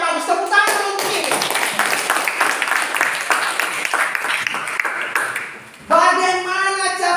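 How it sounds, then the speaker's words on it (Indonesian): Sustained applause from a classroom of students fills several seconds with dense, overlapping hand claps that then fade, followed by a teacher speaking. "Tepuk tangan untuk ini."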